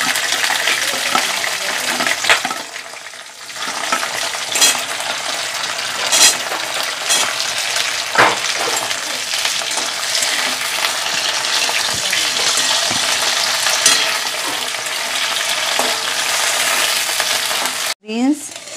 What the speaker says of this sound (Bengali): বিনস গাজর ভাজা হয়ে গেছে